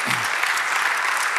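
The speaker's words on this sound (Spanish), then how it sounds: "Dale otro aplauso al Rey." A church congregation applauds in dense, steady clapping that fills the whole moment, close and loud, with no voices standing out above it.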